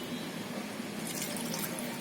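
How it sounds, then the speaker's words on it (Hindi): Half a glass of water poured into a pot of mutton khichda, a steady close splashing wash of liquid that runs throughout without pause. "आधा गिलास पानी हम इसमें और डाल देंगे।"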